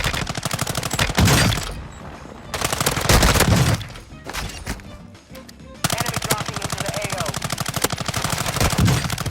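M13C submachine gun fire in Warzone 2, loud rapid automatic bursts that stop in short gaps and then resume, close up and dense.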